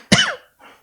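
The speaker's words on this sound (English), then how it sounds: "move away from the mic to cough" A single sharp, close cough followed by a short, quieter throat-clearing burst.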